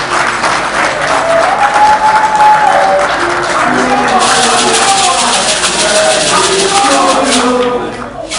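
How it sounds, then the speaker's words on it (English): A crowd at a celebration gives sustained loud applause for the President, a steady wash of clapping with scattered cheers and voices running through it from start to finish. "A round of applause to Mr. President"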